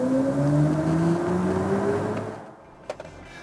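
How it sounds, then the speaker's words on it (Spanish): BMW iX3 electric car accelerating hard in Sport mode with its synthesized, spaceship-like acceleration tone composed by Hans Zimmer, a smooth rising whir that swells loud and then fades out near the end. "si activo el modo Sport, vais a escuchar el sonido programado de Hans Zimmer cuando aceleras a fondo"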